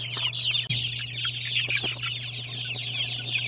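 Native Zampen chicken chicks on a farm cluck and peep in quick overlapping bursts, close and fairly faint, over a steady low hum and without any talk.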